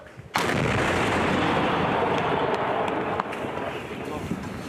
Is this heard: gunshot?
yes